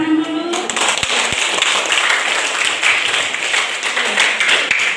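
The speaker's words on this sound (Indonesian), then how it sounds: "kita tepuk tangan dulu" Parents and teachers applaud together at a primary school gathering in a hall, a dense, loud, sustained clapping that carries on steadily from start to finish.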